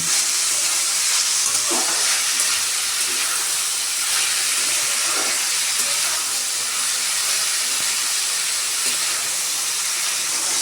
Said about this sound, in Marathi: आता आपण शेंग चांगली तेलामध्ये आणि टोमॅटोमध्ये परतून घेऊया.